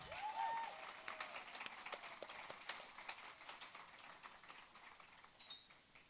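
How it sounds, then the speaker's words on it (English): An audience applauds musical performers at an arts and culture event, scattered claps thinning out over several seconds, fairly faint and distant, with a brief tone near the start. "join me in providing another round of applause for our incredible performers"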